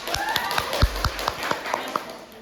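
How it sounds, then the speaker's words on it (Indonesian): A class in a microteaching lesson on entrepreneurship claps after a presentation: a modest, uneven patter of hand claps from a few people in a room, with faint voices beneath. "Kita kasih tepuk tangan."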